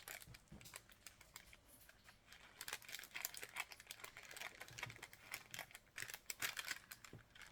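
A package being unwrapped by hand, quiet close crinkling and rustling of paper in irregular bursts, continuing steadily throughout.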